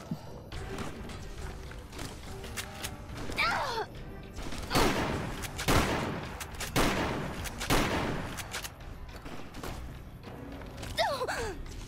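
Gunfire in the modded video game Fallout New Vegas: several loud, sharp bursts crack close by in quick clusters, with a man's startled exclamations between them.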